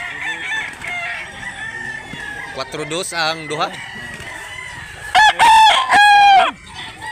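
Sweater lemon gamecock roosters at a chicken market in Mantalungon, Barili, Cebu crow loudly and close, two drawn-out calls with a few clucks while people talk around them.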